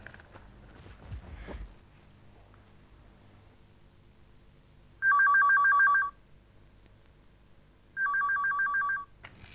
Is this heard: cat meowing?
no